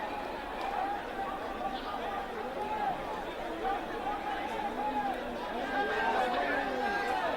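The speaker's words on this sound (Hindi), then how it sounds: "प्रयागराज में हंगामा हो रहा है छात्रों का" Crowd of protesting students gathered at a chowk in Prayagraj, a dense babble of many overlapping voices and chatter, steady and close, with a slight swell toward the end.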